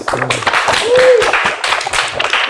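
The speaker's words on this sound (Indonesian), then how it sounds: "Kalau gitu kita kasih tepuk tangan untuk tim CX." Studio participants on an office talk show give a short round of applause for a customer experience team, a few loose, uneven claps mixed with voices close by.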